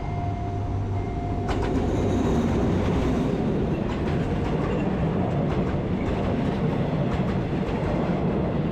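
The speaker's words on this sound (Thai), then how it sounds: "รถไฟมาพอดีเลย" A train on the Eastern Line near Makkasan, Bangkok, rumbles past close by, a steady broadband roar with rhythmic clicks of wheels over rail joints, loud throughout.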